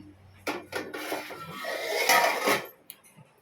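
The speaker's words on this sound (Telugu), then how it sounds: "దీన్ని మూత పెట్టేసి" A metal lid set onto a pot of mud fish curry in a home kitchen, with a close, short clatter and scrape of metal on metal settling over a couple of seconds, with no talking.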